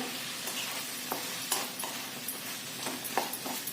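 Vegetables including peas sautéing in oil over medium heat for dal khichdi in a pressure cooker, a steady sizzle broken by repeated scraping clicks of a spoon stirring the pan, close and continuous.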